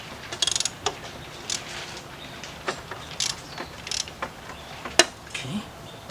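A ratchet works loose a 10mm bolt on a Kia or Hyundai engine during a timing chain job, giving soft scattered clicks and a short quick rattle of pawl ticks, with faint tool handling nearby.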